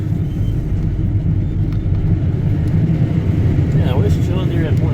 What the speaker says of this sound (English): Welcome to Harvest 2022, the S780 John Deere Combine.